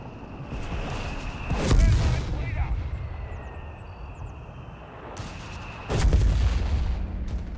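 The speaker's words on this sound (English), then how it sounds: "Flak crew there in trouble once more with the airburst shells. That's just regular mortar shots." Mortar and airburst shell impacts in the strategy game Company of Heroes 3, two loud booming blasts a few seconds apart over continuous battle noise, with a commentator talking.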